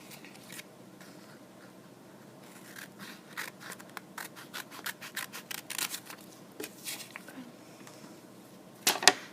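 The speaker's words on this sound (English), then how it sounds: "So when I cut this out, I should have 2 triangles." Scissors snip through paper to cut out triangle shapes, a close, rhythmic run of crisp cuts that speeds up in the middle and ends with a few sharp clicks, with no voices.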